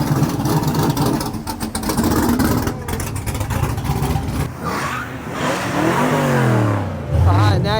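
Modified cars at the Summernats car festival, engines revving and accelerating nearby amid crowd noise, with a rising rev near the end and voices talking over the rumble.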